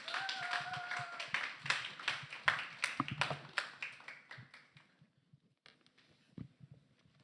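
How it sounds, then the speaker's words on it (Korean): A church congregation at a Sunday worship service claps to welcome the pastor, a brisk burst of hand claps that thins out and fades to scattered taps and a few last claps near the end. "우리 큰 박수로 우리 함께 좀 환영하도록 하겠습니다"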